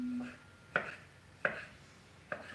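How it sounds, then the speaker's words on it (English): A knife chops pearl tomatoes and vegetables on a cutting board in a home kitchen, three distinct sharp knocks spaced under a second apart, close and clear over a low background hum. "So, Maddie, while I'm chopping all these up"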